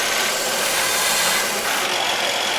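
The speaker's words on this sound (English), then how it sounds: "I happen to have a belt sander now" A belt sander shapes a wooden piece for a workbench, giving a steady, loud abrasive whir with continuous gritty rasping and no break for the whole stretch.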